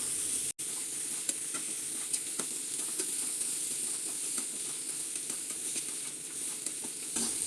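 Washed potatoes fry in a pan, giving a steady close sizzle and hiss with occasional soft scrapes and taps as a utensil stirs them.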